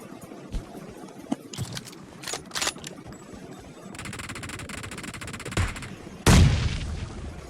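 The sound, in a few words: M24 sniper gunfire in PUBG video game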